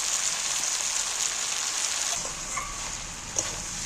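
Jackfruit curry cooked with goat fat sizzles steadily in a pan as water is added and it is stirred, a continuous hiss with a few light scraping clicks near the end.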